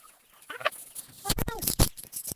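Chickens cluck nearby in short, irregular bursts, some sharp and close, with a brief pause at the start before the clucking becomes louder and more frequent.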